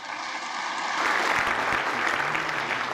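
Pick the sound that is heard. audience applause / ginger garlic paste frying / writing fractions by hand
audience applause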